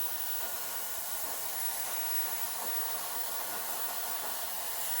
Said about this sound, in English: I'm gonna do a little more blow drying and kind of lift it up.